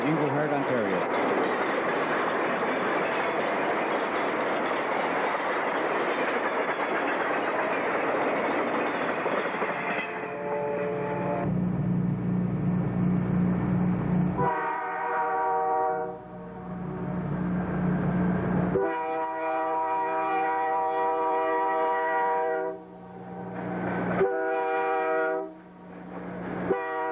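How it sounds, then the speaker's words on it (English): An Ontario Northland southbound freight train with two locomotives passes in winter, a loud rushing rumble giving way to repeated long horn blasts between quieter stretches of rolling cars, with a narrating voice over parts. "a southbound train number 308 passes by with engine 1806 and sister engine 1807 on their way home to Englehart, Ontario."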